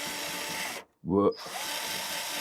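Power drill driving a screw during electronics repair: a brief whirring burst of about a quarter second, rising in pitch, set between broadband noise and a short silence.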